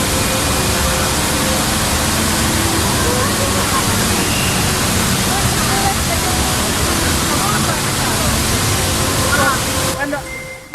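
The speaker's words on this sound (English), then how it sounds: "my main purpose was to see the Jewel Complex or the Jewel Indoor Waterfall" Jewel, the indoor waterfall at Singapore's airport, sends out a loud, continuous roaring rush of falling water that fills the space, with faint thin tones and crowd sounds beneath it before it cuts off near the end.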